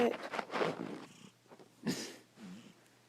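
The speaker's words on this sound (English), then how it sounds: "Why you with a snoring cat?" A sleeping cat snoring and purring up close, a few raspy breathy cycles with rough rattling inhales and softer exhales, quiet and alone.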